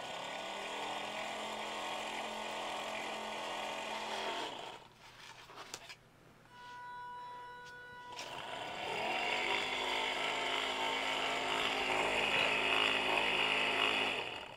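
A small DC motor driven through a TIP120/TIP125 transistor H-bridge whines steadily with a broad electric buzz, cuts out briefly as it brakes with a faint tonal hum, then spins back up in the opposite direction and settles at speed, close and loud.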